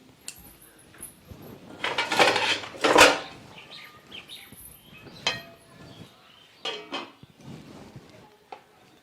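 Metal lid and pan clatter over a pan of hot frying oil used for onion fritters in a home kitchen, with a few loud clanks and scattered lighter clinks, close and without talk.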